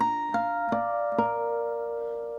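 Ringing guitar harmonics chime with a bell-like tone, a few plucked notes sustaining and slowly fading together.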